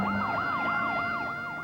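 An ambulance siren wails at the scene of a high-explosive blast, its rising and falling tone repeating in steady, loud cycles with a faint road rumble underneath.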